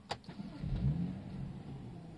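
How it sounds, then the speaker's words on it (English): A 2014 BMW M135i with a 3.0-litre engine starts with a brief starter whir and a sharp catch, then the engine flares and settles into a low, steady idle, close by and alone. "We'll start that car up now so you can hear the noise."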